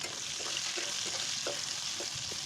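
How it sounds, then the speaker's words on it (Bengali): Shrimp and fish seasoned with salt and turmeric fry in a pan with a steady, close sizzle, broken by a few soft clicks and scrapes as the pieces are stirred. "দেখতেই পাচ্ছ কিভাবে ভাজা করছি। এর মধ্যে বেশিরভাগই চিংড়ি মাছ আছে, তাই বেশি ভাজা লাগবে না।"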